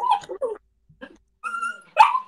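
A male dog barks and yips in several short, sharp bursts with brief pauses between them, fairly close and clear, with no talk over it.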